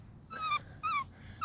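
Puppies whimpering and yipping in short high-pitched bursts during an obedience session at a kennel, three close whines over low background noise.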